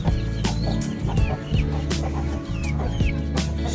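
Several chickens cluck and squawk close by in short, repeated bursts, with rustling and scratching underneath.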